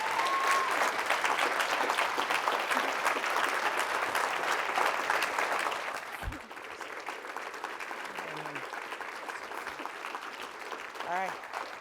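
An audience applauds after a president's address at a provincial coordinators meeting: steady, dense clapping that fills the first half, then thins and fades while a speaker's voice comes in over it.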